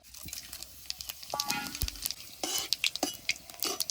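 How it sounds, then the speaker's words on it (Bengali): Whole spices (bay leaves, dried red chillies, cumin, cardamom, cloves and black peppercorns) crackle and sizzle in hot oil for village-style paneer do pyaza, with sharp pops and clinks of a stirring utensil against the pan. "তেলটা গরম হয়ে গেছে, এখন তেলে খাড়া মশলাগুলো দিয়ে দেবো।"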